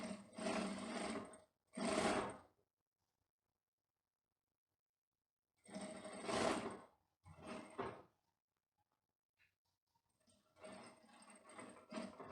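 An industrial sewing machine stitches the waistband lining of a tailored women's trouser in short loud runs of about a second each, separated by silent pauses, with a last stretch of lighter intermittent stitching.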